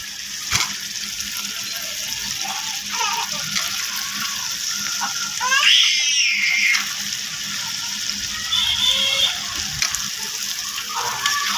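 Potatoes are frying in spiced oil for a potato and fish curry, a steady close sizzle with a louder, busier burst about halfway through. No one talks.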